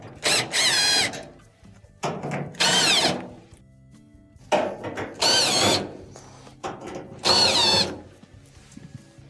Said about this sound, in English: In order to remove the bulkhead, there are a couple of Phillips screws that have to be taken out.